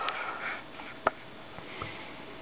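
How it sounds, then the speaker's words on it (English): Several quiet, short sniffs of someone smelling a Trident gum wrapper, with one sharper sniff in the middle, close to the mic in an otherwise hushed room. "In case you guys hear me sniffling, I'm just smelling the wrapper of my trident."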